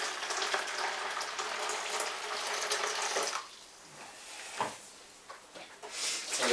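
Boiled water poured into a homebrew wine fermentation bucket, a continuous splashing pour for about three seconds, then quieter dribbles and brief splashes that trail off and return near the end.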